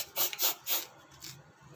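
A knife saws through a banana bread sandwich with mango jam, cutting it in two: three quick, close rasping strokes followed by softer scraping, with no voices.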